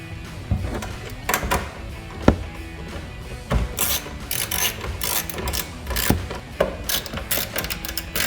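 Ratchet snugging down the tail light nuts on a 2019-2024 Camaro, close and loud, its clicking pawl coming in quick uneven bursts with short pauses between strokes.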